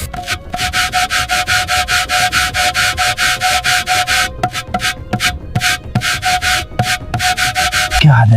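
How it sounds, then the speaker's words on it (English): Loose rust is scraped off the body of an abandoned sea-side car with fast, rhythmic, close-up strokes, steady for several seconds and then breaking into a few separated scrapes. "Trying to get all this loose rust off."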